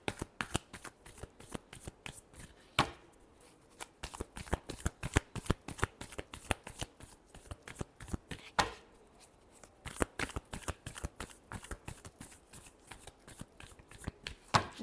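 Tarot cards being shuffled in a steady run of crisp riffling flutters and slaps, close and fairly loud, carrying on for the whole stretch with only brief pauses and no talk.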